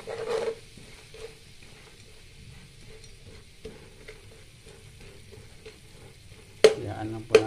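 Tuna is stirred with coconut milk, peppercorns and lemon juice in a pan. A low simmer carries short scraping stir strokes, with louder bursts at the start and again near the end.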